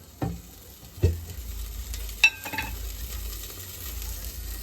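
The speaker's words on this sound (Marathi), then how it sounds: "भाजीला फोडणी हा माणूस देणार आहे." Vegetable tempering sizzling in hot oil in a home kitchen, a quiet steady fry with a few sharp stirring knocks and clinks of a spoon against the pan.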